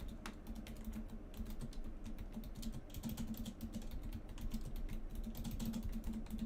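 Rapid clicking of fingers typing on a computer keyboard, a steady run of close, crisp keystrokes with no talking.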